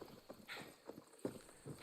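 Horse hooves clip-clop at a steady walking pace in the open-world game Far Cry 6, a run of soft, evenly spaced thuds heard fairly close and alone with no talking.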